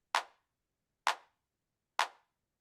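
A clean, dry clap sample triggers three times in Ableton Live 12, evenly spaced about once per second, each hit crisp and short with a quick decay into silence.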